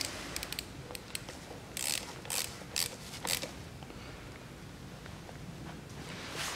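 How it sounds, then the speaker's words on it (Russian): A new grease fitting screwed into the driveshaft cross of a Ford Ranger 2.5 Turbo: quiet, close metallic ticks and a few short ratcheting bursts of a wrench, then a softer low hum, with no voices. "Беру новую тавотницу из комплекта, наживил и закручиваю."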